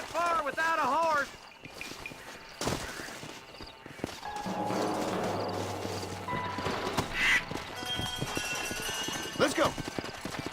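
In the video game Red Dead Redemption, horse hooves clip-clop in a rhythmic patter while characters talk, mixed with game effects and crow caws.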